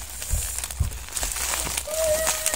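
Plastic shopping bag crinkling as packaged instant food is unwrapped, close soft rustles and crackles with a few thumps, over a faint background hum.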